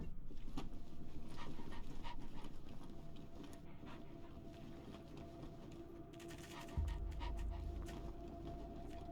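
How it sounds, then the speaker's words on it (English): Dogs pant and whimper softly in the Wasteland 3 video game, a faint, continuous breathy rhythm over a low ambient hum, with no voices. "Okay, I do hear dogs."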